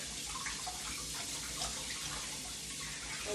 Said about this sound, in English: Run the water all the way through to the cavity.